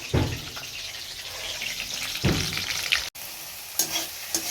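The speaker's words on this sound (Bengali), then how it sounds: "এখানে মাছগুলো ভাজা হচ্ছে" Steady hissing sizzle of fish frying in a pan, with occasional louder bursts of spattering oil and a brief stir, no voices.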